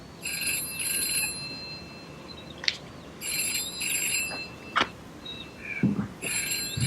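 A telephone rings in repeated electronic trilling bursts, two at the start and two more later, separated by pauses with a few clicks and knocks in between.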